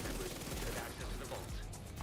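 Sustained MP7 submachine gun fire in The Division 2, dense and continuous, with rhythmic low thumps repeating through two seconds of steady, fairly loud automatic shooting.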